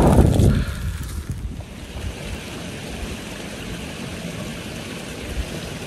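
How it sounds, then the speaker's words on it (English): Steady rushing water of a babbling brook in a forest, broadband hiss, louder at the start, continuing evenly throughout with no voices. "You can hear the babbling brook."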